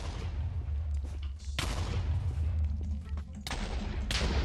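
Fireball explosions in a Minecraft Bedwars match: a few sharp loud blasts punctuate a steady rumbling background, each burst striking suddenly and decaying quickly.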